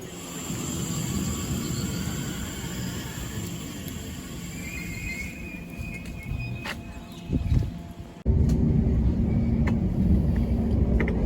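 A Crossrail train running into a tunnel gives a steady, fairly loud rumble with a brief tonal whine, then a short dip before the roar jumps up and holds as the carriage enters the tunnel.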